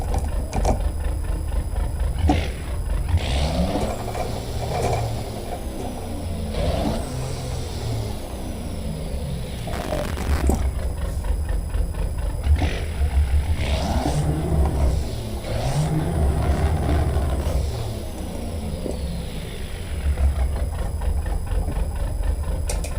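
American Truck Simulator truck dropped into gear and driving off, engine revving and rising through gears in repeated sweeping climbs, loud and continuous with occasional clunks, no voices.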